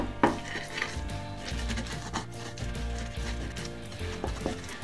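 Dried anchovies being pounded and ground with a pestle in a stone mortar in a home kitchen, giving repeated clacking and scraping knocks at a steady, close rhythm, with no talk.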